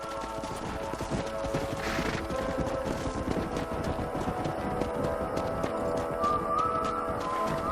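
Horses' hooves clip-clop in a rapid galloping rhythm in Red Dead Redemption, close and continuous, with brief music-like tones and a short swell of noise.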